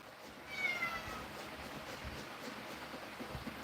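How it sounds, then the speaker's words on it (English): A house cat gives a single short meow, a bit distant and faint over a quiet, slightly noisy background, followed by low ambient rumble with no speech. "I wish I knew what to do with that cat."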